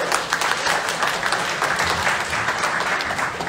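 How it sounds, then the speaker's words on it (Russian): An audience at a business dinner claps in a dense, steady round of applause that fills the room for a few seconds. "Хлопай."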